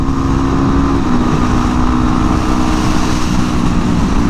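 A motorcycle engine pulls hard and loud while overtaking a truck on the road, a steady droning roar mixed with rushing wind and no voices.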